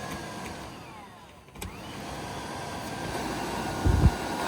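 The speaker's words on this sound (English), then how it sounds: "Ignition on. There's our blower." Heater blower fan in a Can-Am Defender HD10 utility vehicle spins up with the ignition on, a steady close whooshing hum that builds slightly, with a few faint clicks and a brief louder thump near the end.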